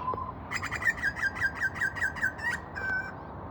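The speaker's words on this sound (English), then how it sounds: "that bird up there was just making that call." A bird outdoors repeats a bright chirping call about a dozen times in quick rhythmic succession, then gives one longer note after a short pause, clear and fairly close over a faint background hiss.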